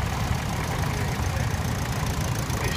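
Tractor engines idle together at a vintage tractor parade, a steady low rumbling chug with a knocking pulse that holds evenly throughout, close and moderately loud with no talk.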